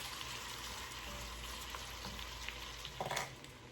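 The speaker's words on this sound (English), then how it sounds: "we're just going to stir that around until our veggies start to soften" Vegetables frying in a pot for traditional Hoppin' John, a soft continuous sizzle with light scraping of a spoon stirring near the end, faint and steady with no one talking.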